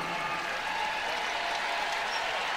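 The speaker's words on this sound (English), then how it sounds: "because she's checking in for Morrow, who will get a great round of applause here from this PMAC crowd." Steady applause from a basketball crowd inside LSU's PMAC arena during a women's game against Missouri, a dense even wash of clapping that fills the space without a break.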